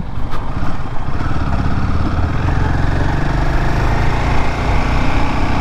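A motorcycle ridden along an open road holds a close, steady engine drone mixed with rushing wind noise, unbroken throughout with no talking.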